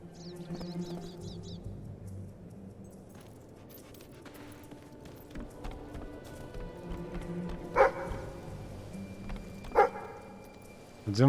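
Dog in the video game Fable 3, several short barks and yips over game ambience and clip-clop footsteps, with someone talking throughout.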